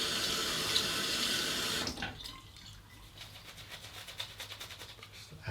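A tap runs while someone gets ready to shave, a steady rushing stream that cuts off partway, leaving a few drips and small splashes nearby.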